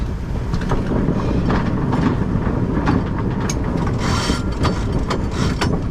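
Sailboat winch ratcheting steadily while the head sail is raised, a dense run of mechanical clicks continuing close by for the whole stretch over wind and boat noise, with no talk.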